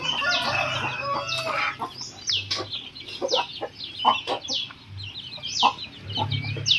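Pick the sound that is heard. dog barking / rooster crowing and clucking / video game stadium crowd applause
rooster crowing and clucking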